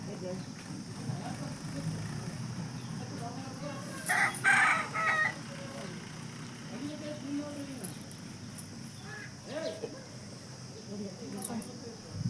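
Village chickens and a rooster give brief crowing and clucking calls outdoors, with one louder burst partway through, over a steady bed of crickets and insect noise; faint voices are heard.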